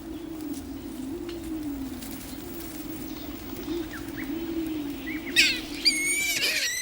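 Pigeons or doves coo in a low, steady drone while feeding, with a few sharper chirps and rustles near the end. The calls are close and clear, and no one speaks.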